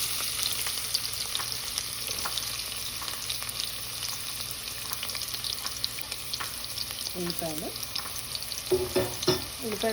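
Sliced onions and cumin seeds fry in hot oil for a desi brinjal curry, giving a steady, moderate sizzle with a few soft stirring clicks near the end.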